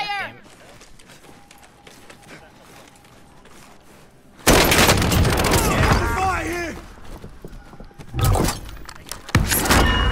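Bursts of gunfire erupt loudly in a game firefight after a quieter stretch, with sharp cracks and clatter in several clusters, while people talk and call out over the action.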